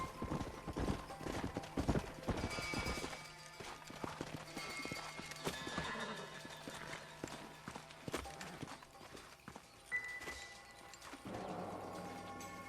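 Horse hooves clip-clop in an uneven rhythm amid rustling and scattered knocks, a busy soundscape with occasional thuds, from the video game Red Dead Redemption.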